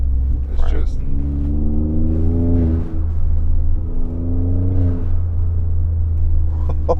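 A turbocharged EcoBoost pickup truck engine revs twice in long rising pulls over a steady low rumble, with people talking nearby throughout.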